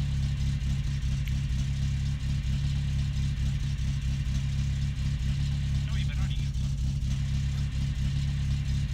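In the video game My Summer Car, a car engine idles steadily while warming up, a continuous low rumble with slight clatter, close and constant throughout, and a person talks briefly over it.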